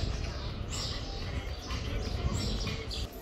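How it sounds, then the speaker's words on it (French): Birdsong plays inside a shoe store in Clermont-Ferrand, with faint high chirps and tweets riding over a dense, steady wash of indoor shop noise. "Écoutez-moi ça, les chants des oiseaux."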